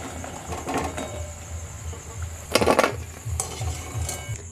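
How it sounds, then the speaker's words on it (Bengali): Rose-shaped sweet pitha frying in hot oil in a wok, a soft continuous sizzle broken by a few metallic clinks and scrapes of a utensil against the pan, close and moderately loud. "একইভাবে বাকিগুলো ভেজে নিচ্ছি"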